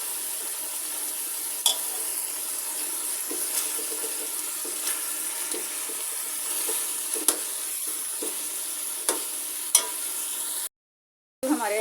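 Green chilies frying with chicken, potatoes and yellow food colour for biryani, a steady soft sizzle broken by sharp clinks of a spoon against the pot before a brief silence near the end.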